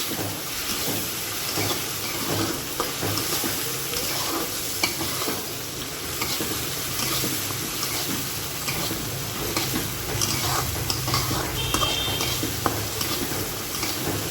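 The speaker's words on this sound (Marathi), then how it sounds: "टॅमॅटो टाकल्यानंतर आपल्याला 1-2 मिनटं छान असं परतून घ्यायचं आहे" Tomatoes and onions sauté in a hot pan, giving a loud, continuous sizzle and hiss with steady stirring scrapes throughout and no voices.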